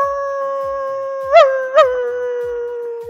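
A dog howls in a long, steady, close tone that wavers and swells twice partway through before trailing off, with no talking over it.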